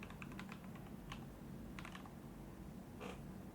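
Keystrokes on a computer keyboard while typing Linux terminal commands, a few scattered clusters of quiet clicks over a steady low hum, with no voices.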